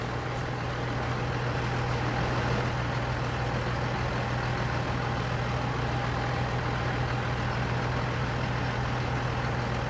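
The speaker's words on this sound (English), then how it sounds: "Back over to the tractor here, get ready to go." A tractor engine idles in the video game Farming Simulator 25, a steady, loud, low droning rumble that holds unchanged for ten seconds with no talk or other events.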